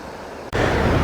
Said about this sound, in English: it has rapids all along the whole river here